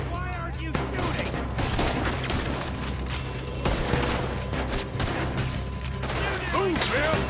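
Gunfire in Red Dead Redemption 2 during a robbery shootout: dense, continuous volleys of shots and crashes, loud and sustained throughout, with shouting voices mixed in.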